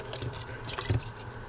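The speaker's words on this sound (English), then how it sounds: "then you can rinse out" Mulberry leaves being rinsed in a pot of salted water, with soft close splashing and dripping.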